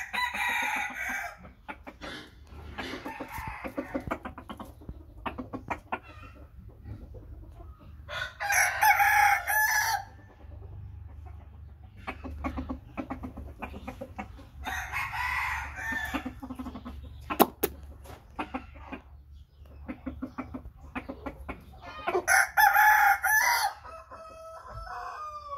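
American Asil roosters crow three times at spaced intervals, loud and nearby, with scattered clucking and soft rustling between the crows.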